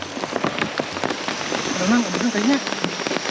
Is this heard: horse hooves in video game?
no